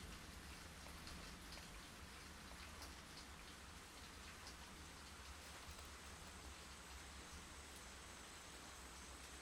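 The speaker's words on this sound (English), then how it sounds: "Oh, nighttime with rain." Steady rain pours down at night in the video game Season: A Letter to the Future, a dense, even hiss that holds unbroken and fairly close throughout, with no voices over it.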